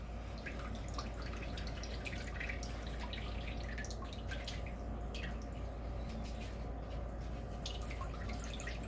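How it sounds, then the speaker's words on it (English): Water draining and dripping off the corner of a homemade papermaking mold, a continuous soft trickle with scattered small drips, close and faint, no talking. "we're just draining the water off the corner of it"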